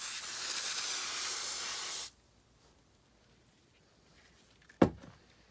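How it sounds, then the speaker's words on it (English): Acetone sprayed from a can during flex shaft maintenance, a loud steady hiss for about two seconds that cuts off abruptly, then quiet room noise and a single sharp knock. "I'm going to give it one more spray"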